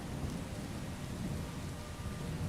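Heavy rain and rumbling thunder in the video game Skyrim, a dense, steady roar of downpour with a low thunder rumble underneath, loud and constant with no talking.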